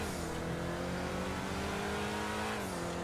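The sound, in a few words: Grotti Itali Classic car engine whine, GTA Online video game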